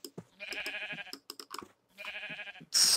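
Sheep in the Minecraft video game bleat in two drawn-out wavering calls, fairly faint, with short clicks and small game sounds between them and a louder burst at the end.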